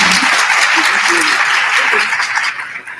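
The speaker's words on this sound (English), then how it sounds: "Ladies and gentlemen, please give this distinguished panel a round of applause." A symposium audience applauds a distinguished panel at a leadership and grants showcase. The clapping is loud, dense and steady for most of the burst, then eases toward the end, with a few voices faintly underneath.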